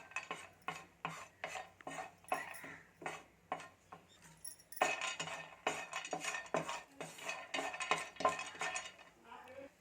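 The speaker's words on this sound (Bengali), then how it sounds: "বাদামগুলো দিয়ে একটু ভালোভাবে আমি নাড়াচাড়া করে একটু লাল লাল করে" Peanuts are stirred in a frying pan with a metal utensil while browning for a chop recipe, giving repeated close scraping and clinking strokes in an even rhythm with a soft sizzle beneath.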